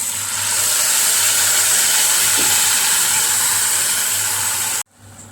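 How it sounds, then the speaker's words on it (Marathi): Freshly ground paste for a palak and sweet corn bhaji hits a hot pan and sizzles in a loud, steady hiss that runs unbroken for nearly five seconds and then cuts off abruptly. "आता आपण ग्राइंड केलेली ही पेस्ट टाकूया।"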